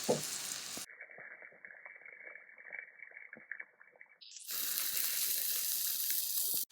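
A real steak sears in a hot pan, muffled and dull at first, then bursting into a loud, steady, close sizzle that holds to the end.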